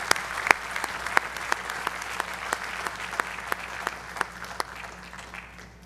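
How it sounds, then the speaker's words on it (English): Audience clapping at a high school athletic hall of fame induction, a steady murmur of applause with sharp, individual claps standing out close by at regular intervals. "So again, ladies and gentlemen, if we could give a round of applause one more time for Jessica Simpson Long."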